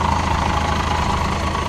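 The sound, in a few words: old 15-tonne city bus engine idling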